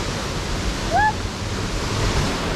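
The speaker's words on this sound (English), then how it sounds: "we could have this waterfall all to ourselves" A waterfall at Cloudland Canyon State Park in Georgia roars in a steady, broadband rush, with a short bird chirp near the middle.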